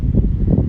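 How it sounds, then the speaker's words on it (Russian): Strong wind at a mountain mosque in Itum-Kale buffets the microphone with a loud, low, rumbling roar that surges unevenly through the whole short moment. "Здесь очень сильный ветер."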